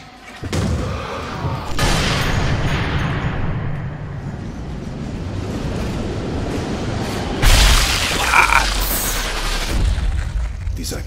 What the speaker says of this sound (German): Ah, die Kanone. Die macht also so extrem Krach.